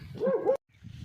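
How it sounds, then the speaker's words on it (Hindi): A dog at a rural farmstead in Vehari gives a short whining bark-yelp, close and fairly loud, cut off abruptly before faint low rumbling resumes. "कुत्तों का नए आने वालों पर भौंकना"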